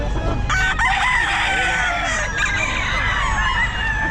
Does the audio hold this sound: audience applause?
no